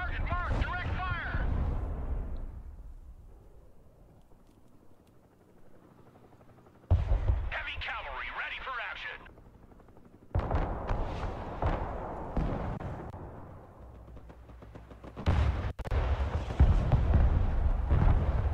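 Heavy gunfire and artillery blasts in the military strategy game Broken Arrow come in loud bursts, separated by quieter stretches with people talking over them.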